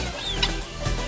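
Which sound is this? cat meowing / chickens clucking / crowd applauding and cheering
chickens clucking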